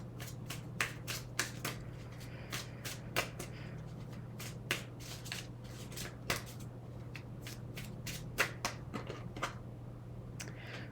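A Zammer Twins oracle card deck is shuffled by hand in quick, crisp riffling flicks that repeat in an irregular rhythm over a low steady hum. The sound is close but fairly quiet, with no talk.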